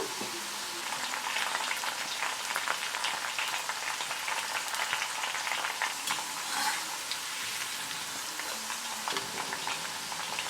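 Raw banana slices deep-frying in hot oil for Kerala-style chips, a steady dense crackling sizzle that holds close and even throughout with no talking.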